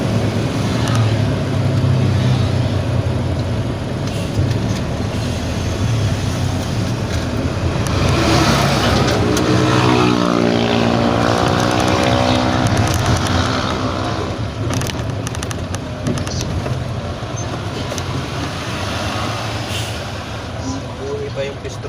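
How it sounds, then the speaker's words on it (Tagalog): Traffic near roadworks at Las Marinas rumbles steadily from inside a vehicle, with engine drone, passing vehicles and occasional wind buffeting, while people talk over it throughout. "Grabe yung traffic"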